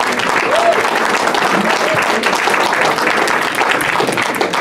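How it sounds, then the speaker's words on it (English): Loud, sustained applause fills a room at a dinner meeting held at a mall, many hands clapping in a dense continuous wash with some crowd murmur underneath. "Just like everyone to give them a big round of applause."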